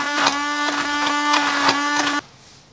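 A blender whirs through baby food loosened with oat milk, giving a steady, close, high motor whine with slight pulsing. It cuts off abruptly just before the end, leaving near silence.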